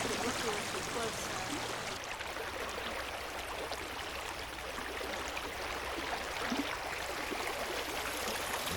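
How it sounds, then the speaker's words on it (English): Steady water trickling and dripping in a rainforest, a dense continuous wash of fine splashes with no clear pauses, moderately loud and close, with no voices over it. "The sound of the water dropping is peaceful, just like rain on a night in the evening in a cave."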